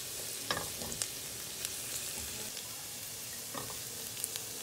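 Onion softening in a hot pan, heard as a soft, continuous sizzle with scattered stirring clicks and scrapes of a utensil, fairly quiet and close, with no voices.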